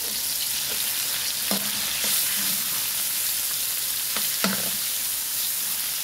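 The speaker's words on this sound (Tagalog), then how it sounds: "Igisa na natin ang pork." Pork sautés in a hot pan, with a loud continuous sizzle and occasional spatula scrapes and taps against the pan.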